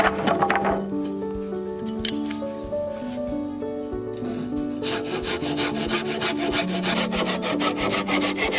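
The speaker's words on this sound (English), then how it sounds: "The wooden planks are being measured and cut to precise lengths" Hand sawing of wooden planks cut to length for a treehouse cabin built in the woods, a steady close rubbing rasp running through most of the stretch with no talk.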